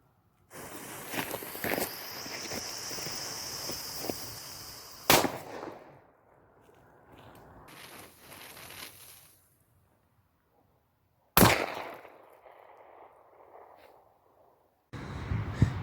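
Veliki pirat firecracker by Mirnovec pyrotechnics going off outdoors: a noisy crackling stretch ends in a sharp bang near five seconds, followed by another loud blast later and a third burst at the end, with no talking.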